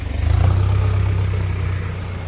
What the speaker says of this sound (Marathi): तर मित्रांनो फायनली त्या ट्रॅक्टर वाढायला दुसरं ट्रॅक्टर आलेलं आहे बघू शकता